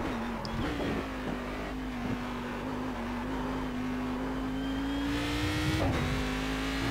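Race car engine in iRacing on the Nordschleife, a steady sustained drone with small rev shifts and brief dips around gear changes, loud and continuous with no talk.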